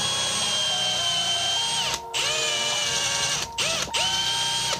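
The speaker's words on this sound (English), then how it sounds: "1/2 inch drill bit, get it going fast." Power drill spinning a 1/2 inch bit into a wooden fishing lure, a loud steady whine with pitch dips as the bit bites, pausing briefly twice before resuming.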